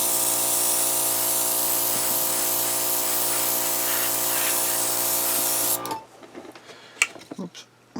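Airbrush laying a light coat of paint on a 1/35 scale WWII German Panzer I model tank, a close steady hiss lasting about six seconds, then stopping, followed by faint handling clicks and noises.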